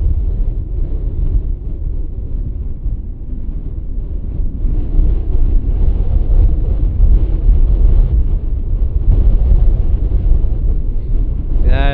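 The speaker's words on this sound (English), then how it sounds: "the wind is having an effect on this" Strong wind at roughly 45 mph gusting across a golf course, a loud, steady rumbling roar buffeting the microphone throughout, swelling slightly midway, with a brief higher chirp at the very end.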